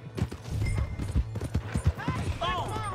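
Horse hooves clip-clopping at a quick, uneven pace in Red Dead Redemption 2, close and steady under people talking, with a whinny near the end.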